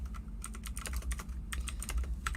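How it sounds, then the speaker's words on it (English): Rapid typewriter key clicks from a video editing app's text effect patter in a quick, steady run, crisp and close. "So I'm going to use the typewriter one."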